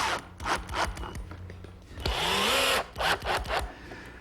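A power drill drives exterior screws into wooden garden gate lattice in short bursts of whirring, one longer run in the middle, with light clatter between them and no voices.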